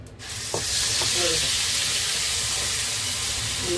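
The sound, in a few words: Malvani masala paste frying in oil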